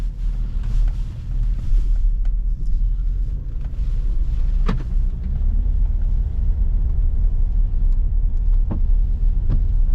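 A Volkswagen Touareg drives along an open road, its steady low engine and tyre rumble filling the cabin with faint wind noise and a few small knocks. No one speaks.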